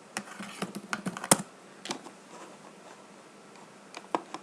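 Irregular keystrokes on a computer keyboard, typing a search for login screen images, sound close and soft, with a dense cluster followed by sparse clicks and a few more at the end, with no talking.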